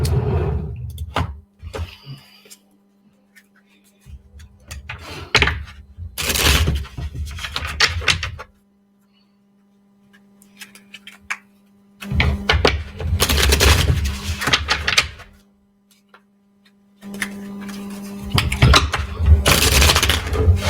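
Repeated bursts of riffling and rustling tarot card shuffles come in several separate bouts, close up, with quiet pauses between them.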